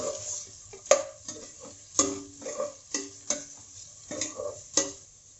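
A spoon stirs dry masala into a Kerala mutton stew in a pot, making rhythmic scraping and clinking strokes, about eight of them, close and clear, with no talking.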